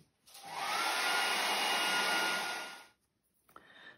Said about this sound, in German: Wenn ihr ungeduldig seid, holt euch einfach einen Föhn und föhnt das Ganze trocken.